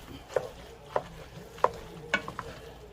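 Food browning in a pan, with four or five soft, evenly spaced utensil clinks over a faint, low sizzle, fairly quiet and without voices.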